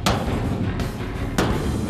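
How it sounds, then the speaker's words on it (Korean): Heavy hammer blows strike the steel plate pillars of a shipping container being straightened at a container repair yard in Pyeongtaek port, three loud metallic bangs spaced under a second apart over a constant industrial din. "이제 망치질로 철판 기둥을 일일이 펴줘야 한다."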